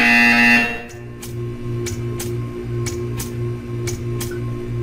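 A loud buzz cuts off, then a repeating pulsing electronic buzzer from the video game Portal 2 sounds in a steady rhythm, about ten short bursts over a low hum.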